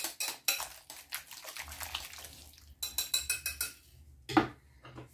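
Avocado and tomato salad being mixed in a bowl: a spoon clinks and scrapes against the bowl in quick irregular strokes, close by, with wet squelching between.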